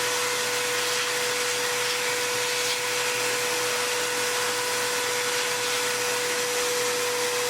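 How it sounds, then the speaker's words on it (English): A vacuum cleaner sucks dust from a desktop computer, running steadily with a constant high whine and airy hiss, close and unbroken throughout. "this kind of dust, we can use the vacuum"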